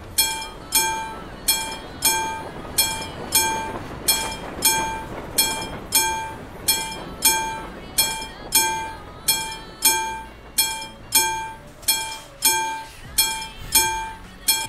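A train passing in Euro Truck Simulator 2 produces a steady, evenly spaced clacking rhythm of wheels over rail joints, repeating about every three quarters of a second, fairly loud and without talk.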